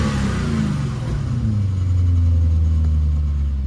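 A BMW 540i E34 with a V8 engine runs with a steady low rumble from inside the car, rising in a smooth rev with no talk.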